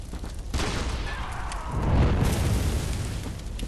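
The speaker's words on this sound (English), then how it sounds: "There's the cannon." A cannon fires in the video game Bloodborne, a heavy booming blast followed by a long rumbling roar that swells and lingers, loud with no voices.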